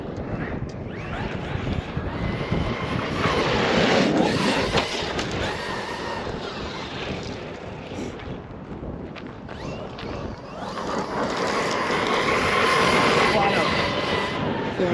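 Traxxas XRT RC monster truck driving wide open, a loud continuous roaring whine with wind buffeting that swells and fades across the run, with voices talking over it.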